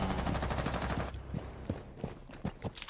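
Rapid automatic gunfire from a Rainbow Six Siege match, dense and loud for the first second, then sparse single shots and sharp impacts scattered at close range.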